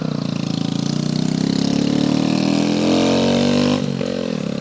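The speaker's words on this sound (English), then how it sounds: "Man, my exhaust is loud." A small motorcycle engine with a loud exhaust runs steadily and close by, its rough harmonic drone holding near-constant pitch before dipping briefly toward the end.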